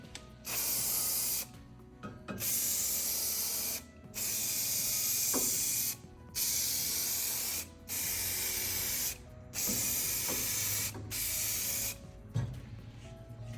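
A coating product sprayed onto the coils and fan of an outdoor AC unit, loud hissing bursts of about a second each, repeated roughly seven times with short pauses between.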